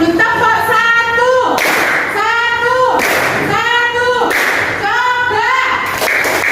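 A primary school class claps a short rhythmic pattern together in bursts, sharp group claps alternating with children's voices chanting and speaking between them.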